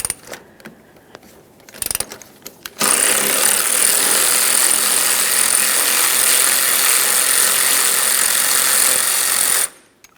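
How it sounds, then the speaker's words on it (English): A power tool, likely an impact wrench, runs in one long sustained burst for about seven seconds while removing 14mm strut nuts on a 2011-2020 Toyota Sienna 3.5L V6, preceded by brief clicks and handling noises, loud and close. "We're going to remove 4 14mm nuts."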